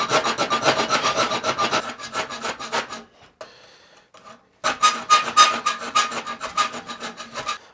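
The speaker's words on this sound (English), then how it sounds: "Just gonna go ahead and hand file all this stuff real quick and get it all nice and neat before we weld it together." Metal being hand filed for an overland radio mount before welding: steady, loud rasping strokes in a quick rhythm, pausing briefly midway with quieter scraping before the brisk file strokes resume, no talk.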